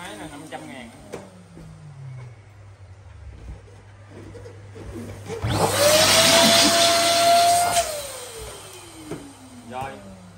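Electric balloon inflator pump whirring loudly for about two seconds in the middle, rising and steady before stopping, with talk before and after it.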